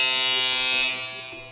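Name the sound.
buzzer going off in a quiz game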